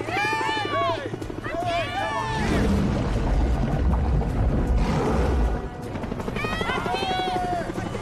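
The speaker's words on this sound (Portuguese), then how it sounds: "Provavelmente é um helicóptero." A loud helicopter drones with a whooshing rotor rumble, while excited voices talk over it.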